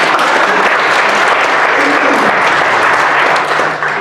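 Audience applause for Michelle Alexander at Logicon 2016, a dense, loud, steady wash of clapping from a crowd that fills the whole stretch and eases slightly at the very end.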